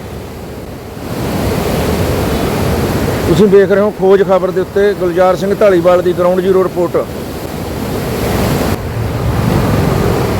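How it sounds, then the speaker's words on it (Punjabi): Water released from Nangal Dam rushes into the Sutlej river with a steady, broad roar that lasts throughout. Someone talks over it in the middle stretch. "ਇੱਧਰ ਨੰਗਲ ਡੈਮ ਹੈ ਜੀ ਇਹ ਨੰਗਲ ਡੈਮ ਪੈਂਦਾ ਖੌਰੂ ਦੇਖ ਸਕਦੇ ਹੋ"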